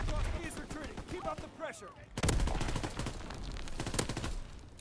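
Rapid automatic gunfire from a World War 2 video game with almost no recoil, dense bursts that fall silent for a moment and then resume in a long, loud, unbroken stream, under a player's voice.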